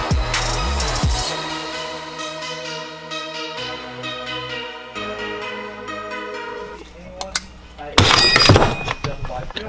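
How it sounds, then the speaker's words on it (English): Bolt snapping inside the engine of a 2013 Kawasaki KX450F dirt bike while being worked on with a DeWalt impact, heard as a sudden loud sharp crack near the end after a stretch of background music and noise. "it was that bolt breaking off in there"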